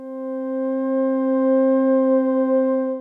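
A soft atmosphere layer from an Ambient Ø synthesizer, Lime palette: a pure, glassy chord of a few clean sustained tones that fades in gently and holds steadily for about three seconds, alone.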